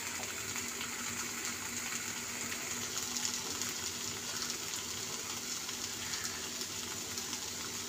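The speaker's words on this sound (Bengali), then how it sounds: "চলুন জলটা দিয়ে দেবো।" Water pours steadily into a pan of doi kochu, a yogurt and green chilli curry, as a continuous soft gushing splash that is faint and even for several seconds.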